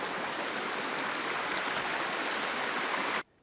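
Small forest stream in spring meltwater, rushing and babbling with a broad, steady hiss of flowing water close by, continuous until it cuts off abruptly near the end; no voices.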